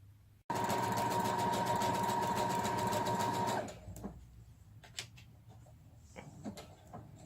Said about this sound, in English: I may get Alexis on the sewing machine sewing some things.